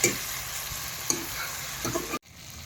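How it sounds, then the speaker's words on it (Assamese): Quiet, steady sizzling of ridge gourd and potato frying in a pan, with a soft stir or scrape, ending abruptly. "একেলগে জিকাটো ভাজি আছোঁ পূৰা"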